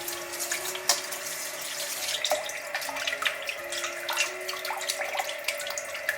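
Raw chicken pieces, sold split into wings and legs, rinsed clean under a running kitchen tap, a steady splashing hiss of water with soft knocks and handling noises throughout, no voices.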